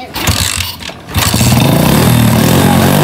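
A Rusi 110 motorcycle engine coughs briefly, then catches and starts, settling into a loud, steady idle close by.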